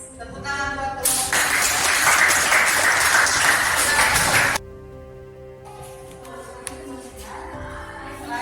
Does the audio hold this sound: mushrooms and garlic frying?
no